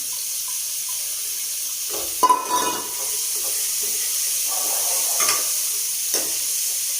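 Tomato and onion dropped into a hot pan for a saag recipe, with a soft background hiss, a sudden sizzle burst and a few stirring scrapes close by, no talk.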